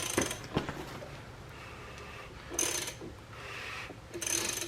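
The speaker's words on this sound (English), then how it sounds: "everything looks good after rotating the crank around" An LS V8 crankshaft is turned by hand during a rear main seal and cover install, producing quiet mechanical ratchet clicks and metallic rubbing in a few short bursts with pauses between.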